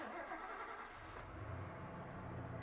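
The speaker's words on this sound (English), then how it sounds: "I hear the sound of an engine revving outside." A truck engine in a video game idles and revs at a moderate distance, a continuous rumbling drone with slight surges, no voices.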